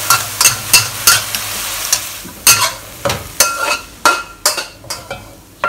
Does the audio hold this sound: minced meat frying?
yes